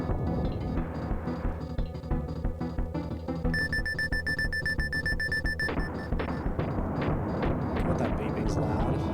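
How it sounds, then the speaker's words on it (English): A loud electronic beeping alarm sounds in a Donkey Kong fangame, a sustained high tone over dense, rumbling game music and explosions. "God, that beeping's loud."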